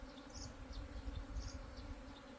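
Honey bees from a freshly captured swarm drone and buzz as they fly around nearby, a continuous low hum with a few passing bees rising above it, with no talk.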